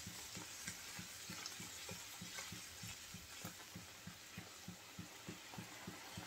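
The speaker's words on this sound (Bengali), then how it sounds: "আলুটা একটু কষিয়ে নেব" Potatoes for a puti fish curry fry in a pan with soft, steady sizzling while a spoon stirs them in an even rhythm of quiet scrapes, faint and close.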